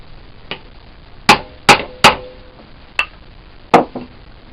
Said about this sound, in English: give it a few precision taps to get that all locked up nicely